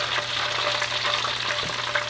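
Steady crackling sizzle of chicken frying in hot oil, close and continuous with no voices, a dense hiss holding level throughout.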